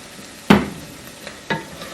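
Whole potatoes for dum aloo cooking in a pan, a soft background sizzle broken by two sharp stirring or scraping hits about a second apart, close and clear.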